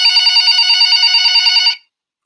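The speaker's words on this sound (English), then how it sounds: "and then the phone rings." A telephone rings with a bright, steady electronic trill lasting under two seconds, loud and close, then cuts off abruptly into silence.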